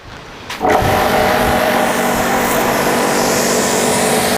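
A high pressure car water washer, just fitted with a new capacitor, starts with a click and then runs loud and steady, a constant motor whine with an even spray hiss, close and alone.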